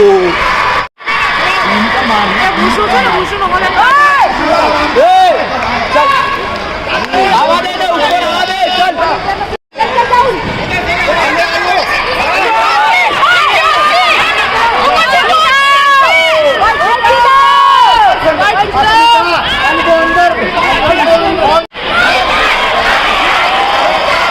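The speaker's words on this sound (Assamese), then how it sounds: "তাৰ হাল্লা শুনিছে যে কিমান হাল্লা চিঞৰি আছে একদম" A dense crowd roars and shouts at a traditional stick and sword fighting show. The loud, continuous babble carries whoops and rising cheers throughout, with a few brief gaps.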